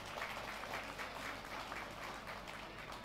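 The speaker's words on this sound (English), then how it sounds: "Please give her a big round of applause." A crowd applauds at a Diwali celebration as a newly introduced commission member is welcomed, the clapping soft and somewhat distant, holding at an even level throughout with no speech.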